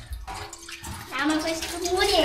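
Biryani ingredients are washed in water in a home kitchen, with short splashes followed by a steadier swish of running water. Quiet voices can be heard underneath.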